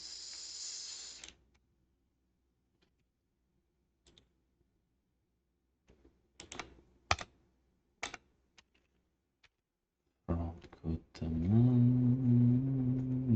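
Computer keyboard pressed a handful of times: sparse, isolated clicks in near silence, scattered over several seconds, with a steady electronic hum rising at the end.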